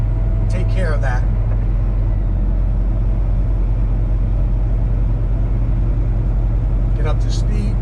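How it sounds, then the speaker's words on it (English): Heavy truck engine rumbling steadily at low pitch with the Jake brake engaged off the throttle, driving on a highway through Nashville, Tennessee; brief voice bursts near the start and end. "Jake brakes just kicked in."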